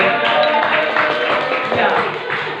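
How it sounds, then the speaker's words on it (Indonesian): Children in a classroom clap together in a brief, close burst of rhythmic claps, with voices chanting along. "Tepuk tangan lagi"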